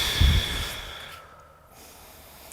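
A close, deep exhale comes during a floor stretch in a weightlifting workout, followed by quiet, softer breathing.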